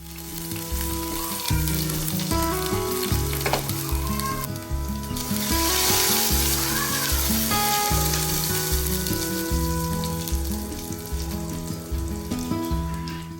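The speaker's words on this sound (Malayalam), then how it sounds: "അപ്പം അങ്ങനെ വെളിച്ചെണ്ണ ഒഴിച്ച് ഞാൻ ചെറിയുള്ളിയും വറ്റൽമുളകും ഒന്ന് താളിച്ച് ഇടാൻ വേണ്ടി" Shallots and dried red chillies sizzle steadily in hot coconut oil as a tempering for a curry, a continuous close frying hiss under background music.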